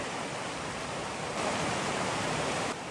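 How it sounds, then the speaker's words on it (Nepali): A river flows beside a hot spring area below Ghatchok, producing a steady, dense rush of water that holds constant and fills the scene, with a slight swell midway and no voices. "यताको साइडमा खोला छ"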